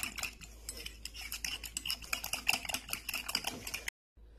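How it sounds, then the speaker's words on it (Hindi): A spoon rapidly clicking and scraping against a bowl while beating an egg mixture with green chilli, spring onion and spices for a Spanish omelette, a quick close rhythmic tapping that stops abruptly. "ग्रीन चिल्ली, स्प्रिंग ऑनियन और ये स्पाइसेस। इन सबको भी मैं दोबारा अच्छे से मिक्स कर लूंगी।"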